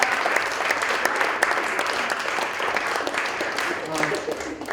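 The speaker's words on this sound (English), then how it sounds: "Can we give them a round of applause?" Audience applause for the speakers at an evening talk event, a steady dense wash of many hands clapping throughout, fairly loud and sustained without a break.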